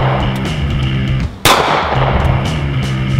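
A single loud .45 caliber pistol shot strikes an AR500 steel body armor plate outdoors, an abrupt sharp crack standing out from steady background noise and ringing briefly.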